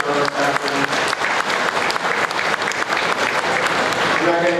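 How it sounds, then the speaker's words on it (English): An audience at a Holstein dairy cattle show claps in steady, sustained applause, a dense crowd of hands filling the room. "let's give these senior cows a big round of applause"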